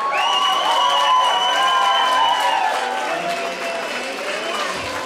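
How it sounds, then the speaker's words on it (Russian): Studio audience at a Crimean and Caucasian themed party cheering and shouting for Team A in a loud, sustained crowd roar with whoops, tapering slightly near the end. "Давайте сейчас аплодисменты команде А."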